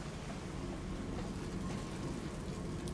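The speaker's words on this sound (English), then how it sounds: "Now it's the compound raining." Steady rain in the horror video game Amnesia: A Machine for Pigs, a dense continuous hiss of falling water at even loudness throughout, with no voices.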